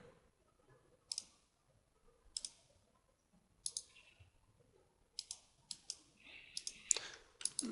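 Computer mouse clicks during photo editing, sharp isolated single and double clicks spaced a second or so apart in a quiet room, closer together toward the end.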